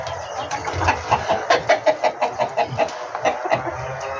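A serama chicken, a tiny bantam breed, clucks close by in a pen in a quick, regular run of about a dozen short clucks, moderately loud over faint background noise.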